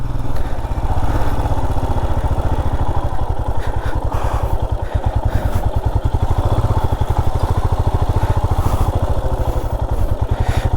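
A Royal Enfield Himalayan motorcycle engine chugs with a rapid, pulsing rhythm on a narrow off-road trail, close and loud throughout, the throttle shifting slightly as it rolls over rough ground.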